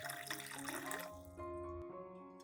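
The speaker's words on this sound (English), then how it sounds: "mix it with 1 liter of clean water and stir well until the baking soda is completely dissolved" Water splashing and trickling in a container as baking soda is stirred into a liter of clean water, brief close liquid sounds followed by a quieter settling.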